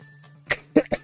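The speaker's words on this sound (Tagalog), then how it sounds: "Pasensya na ha, yung ubo natin" A person coughing three times in quick succession, short and close, with one sharp burst followed by two rougher coughs over a faint steady hum.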